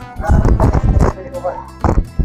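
A person imitates a donkey's bray with loud, rhythmic voiced heehaw calls, close and repeated in quick bursts, mixed with playful vocal sounds.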